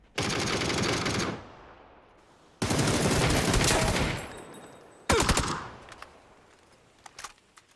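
Automatic gunfire in the PUBG video game, three long rapid bursts separated by short pauses, loud and close, with a few scattered single shots trailing off at the end and no talking.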